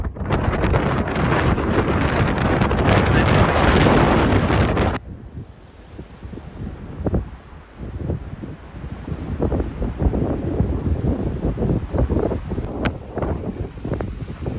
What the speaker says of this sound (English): this is like one of the windiest days I've experienced